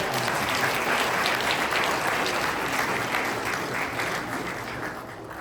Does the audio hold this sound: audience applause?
yes